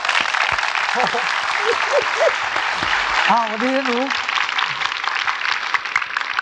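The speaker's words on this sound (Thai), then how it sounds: "ขอเสียงปรบมือหน่อยครับ" Dense, steady studio audience applause on a Thai television talk show fills the whole stretch as guests are welcomed, with a voice talking and greeting over the clapping.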